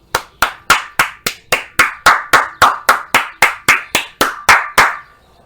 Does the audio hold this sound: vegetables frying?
no